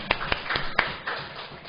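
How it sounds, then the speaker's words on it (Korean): A small church congregation at an Easter service claps briefly, giving a few sparse, fairly faint hand claps over a second or two in a quiet room. "수고하셨다고 우리 박수 한번 하시죠"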